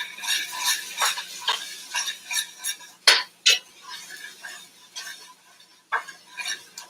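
Minced garlic frying in a pan while a metal utensil stirs and scrapes it, giving repeated clinks and scrapes over a soft sizzle, with two louder knocks near the middle.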